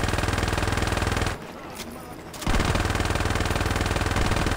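Rapid automatic gunfire in Saints Row 2, loud and continuous, stops for about a second and then resumes just as intensely.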